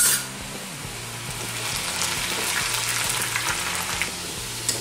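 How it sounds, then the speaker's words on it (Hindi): Cornflour-dusted noodles fry for Chinese bhel, sending up a loud, continuous sizzle of hot oil that stays steady throughout, with a faint clink near the end. "अब हम थोड़ा थोड़ा करके नूडल्स ऑयल में डालेंगे फ्राई करने के लिए।"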